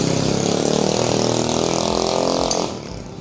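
A bored-up Yamaha Byson motorcycle engine idles loudly nearby with a steady rapid throb, then cuts off abruptly near the end.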